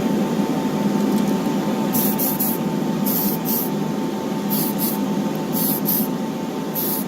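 Tamiya Fine Surface Primer in white sprayed from a can onto a model car, five or six short hissing bursts of about half a second each over the steady whir of an exhaust fan.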